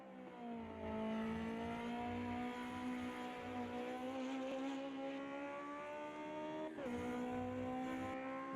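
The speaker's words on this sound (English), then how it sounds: "there you can see the little bit of a twin V motorbike type engine" Small race car with a twin V motorbike-type engine at a Bathurst sprint, its buzzing, harmonic-rich drone held steady at moderate distance, rising gradually, then a quick gear change near the end before it resumes.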